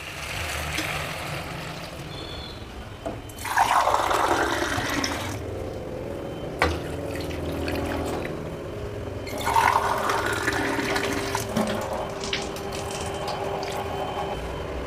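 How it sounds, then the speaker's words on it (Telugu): Water is poured into a pot of fried goat head pieces, giving a steady splashing and filling sound in two louder bursts with a constant wash in between and no talk. "ఇప్పుడు ఈ ముక్కలు మునిగే వరకు వాటర్ వేయాలన్నమాట."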